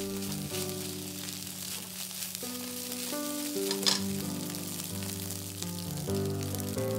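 Japanese-style pork and egg fried rice with char siu stir-fries on high heat, a steady close sizzle with scraping and stirring strokes throughout, while light instrumental music plays underneath.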